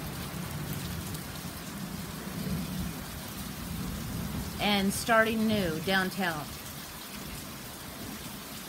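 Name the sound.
rainstorm with rain and thunder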